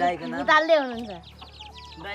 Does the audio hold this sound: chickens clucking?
yes